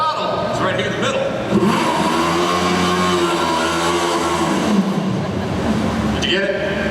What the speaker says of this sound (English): this is just like any other remote control car you can find at the store, except obviously this one is a little bit bigger